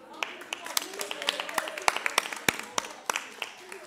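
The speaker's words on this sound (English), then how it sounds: "Come on, clap your hands" Audience at a women's leadership symposium claps along, sharp individual handclaps scattered irregularly across a few seconds, fairly close and distinct rather than a dense ovation, with murmuring voices underneath.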